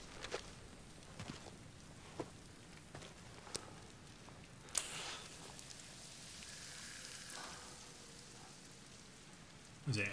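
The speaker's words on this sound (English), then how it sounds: "Is it Acid Rain?" Steady rainfall in the video game Death Stranding hisses softly in the background, with scattered faint clicks and one brief sharp burst partway through, no talk over it.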